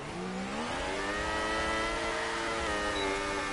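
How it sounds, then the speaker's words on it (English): An F1 2018 race car engine on the Austrian GP circuit in the PS4 game, revving in a rising whine under damp race conditions, steady and fairly faint. "Car revving out there, listen to that"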